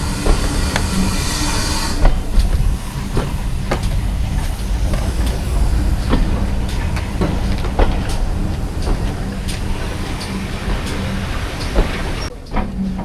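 A South Devon Railway steam train rolls into Staverton station, with a continuous rumbling, hissing ride and repeated rail clicks and clanks heard from aboard, fairly loud and steady throughout, with no talk.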